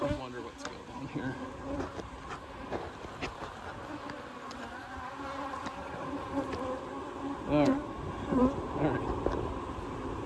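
Honey bees buzz densely around an open hive during an inspection, a close, continuous drone with individual bees whining past the microphone and a few sharper flybys near the end.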